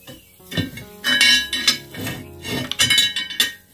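An iron tava griddle set down on a clay wood-fired stove beside a kadhai, giving several close metallic clanks and scrapes with clattering cookware over about four seconds.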